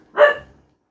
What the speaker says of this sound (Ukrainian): Тихо, собако, все добре.